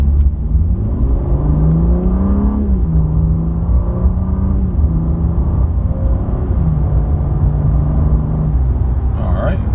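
A BMW G80 M3 pulls away under gentle throttle, its engine a steady close rumble that climbs smoothly in pitch and then drops at each soft gear change, repeating several times.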